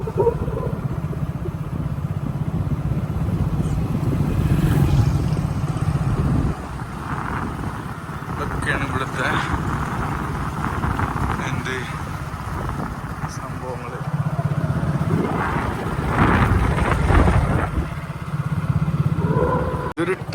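A motorcycle ridden along roads in Lakshadweep, its engine droning steadily close by for the whole stretch, with some rattle and passing traffic noise and occasional voices underneath.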